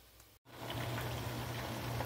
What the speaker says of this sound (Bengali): এখন করছি মূলো ভাজা